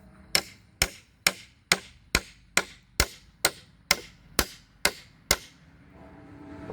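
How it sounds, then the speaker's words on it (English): Twelve sharp, loud hammer blows land on a wooden pallet being broken apart, in a steady, even rhythm, each ringing briefly before the next, then the striking stops. "And then you take right back here and hammer."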